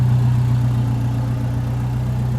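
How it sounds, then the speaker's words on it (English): Alfa Romeo 4C with a turbocharged four-cylinder engine and sport exhaust idling, a steady low droning hum that stays even and close throughout, with no talk. "It's a beautiful turbocharged 4-cylinder engine, great sport exhaust, sounds amazing"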